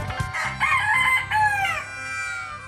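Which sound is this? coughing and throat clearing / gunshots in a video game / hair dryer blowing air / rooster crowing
rooster crowing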